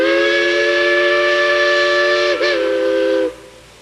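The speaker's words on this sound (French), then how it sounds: "Je vais utiliser la molette et aussitôt ma locomotive démarre." A digital model locomotive on a Massoth system gives a steady, loud whistle-like tone with a brief dip near the end before cutting off, heard alone.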